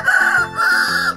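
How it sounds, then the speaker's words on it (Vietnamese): A rooster crows twice in quick succession, loud and close, with a strained, tonal cock-a-doodle call and no other sounds around it. "Gà."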